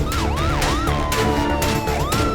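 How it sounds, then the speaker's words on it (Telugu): A cartoon animal ambulance siren wails loudly and close, its pitch sweeping up and down in repeated swoops before holding a steady tone, over a busy musical background. "ఆ జంతువుల అంబులెన్స్ తన జట్టుతో చాలా వేగంగా వచ్చేసింది"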